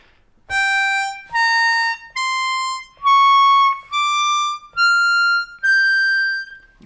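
A harmonica plays an ascending blues scale in the upper octave, from the 6 blow up to the 9 blow: seven clear, separate sustained notes stepping upward, loud and close, with no talking.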